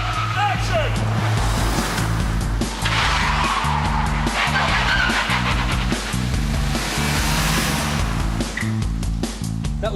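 Stunt car driven hard for a police drama shoot, engine roaring continuously with tyre noise and skidding throughout, loud and close, with a voice briefly heard over it.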